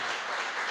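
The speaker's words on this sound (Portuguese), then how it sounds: "vamos aplaudir ao Senhor pela tua palavra" A church congregation applauds at a Sunday evening service, a brief burst of dense, even clapping with no talk.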